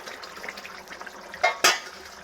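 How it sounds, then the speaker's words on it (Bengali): Fried eggs stirred into a Bengali egg and potato curry in a pan: soft simmering noise, then two sharp metal clinks of the spoon against the pan close together near the end. "ডিমগুলো দিয়ে নাড়াচাড়া দিয়ে নেব।"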